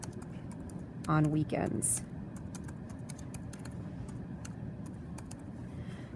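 Computer keyboard typing of a short text entry, soft rapid clicks running steadily through the clip beneath a brief stretch of speech.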